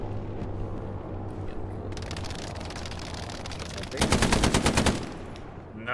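Machine gun hip fire in a realistic shooter video game: distant rattling fire is followed by a loud, close burst of rapid shots lasting about a second, over battlefield background noise.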